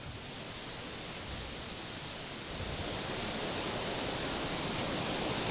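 Rushing water of a waterfall and stream in a mountain forest in the Banthat range, a steady broadband roar that swells slightly louder partway through, close and continuous with no voices.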